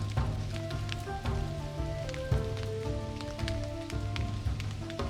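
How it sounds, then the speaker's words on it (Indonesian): Steady rain pattering on leaves and surfaces in a forest during a survival trip, a dense continuous patter with scattered sharper drops, fairly close, with no talking. "Selagi menunggu hujan reda, kita akan terus berada di dekat api agar tubuh kembali hangat"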